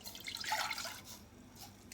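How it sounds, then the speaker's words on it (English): Water is poured from close by into a cooking pot already holding milk, a short soft splashing pour that fades away within about a second, with no talk. "I just added some milk and I'm gonna add an equal amount of water to go with it"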